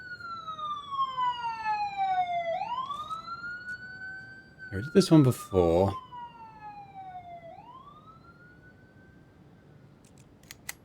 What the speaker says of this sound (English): I think he runs when he hears the siren.